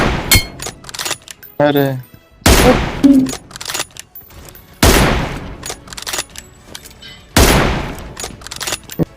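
M24 sniper rifle shots in the BGMI battle royale game, a few loud, sharp reports spaced a couple of seconds apart among other game sounds, with a man briefly exclaiming.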